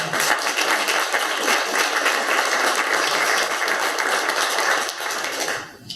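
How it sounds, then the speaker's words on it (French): A crowd applauds at a Relay for Life charity event, dense sustained clapping that stays loud and even before easing off near the end. "Vous pouvez vous applaudir."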